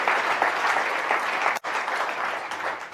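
Town hall audience in Del Mar applauding, a steady dense wash of clapping from a crowd that fills the whole stretch, with a brief sharp break partway through before the clapping resumes.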